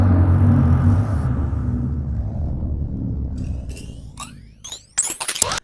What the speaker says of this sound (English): the Preon, which is the sound that plays before the ignition when you tell the lightsaber to turn on